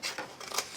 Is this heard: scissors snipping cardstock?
yes